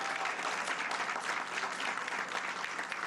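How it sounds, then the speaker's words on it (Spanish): Crowd applause at a public event marking the start of works on a safe-paths project in Acapulco, Guerrero, a dense, even clapping sustained throughout at moderate distance. "Fuertes los aplausos."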